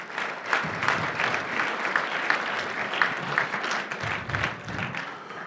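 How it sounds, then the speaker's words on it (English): An audience at a charity gala dinner breaks into sustained, dense applause, many hands clapping together in a full, even roar that tapers slightly at the end. "Give another big round of applause."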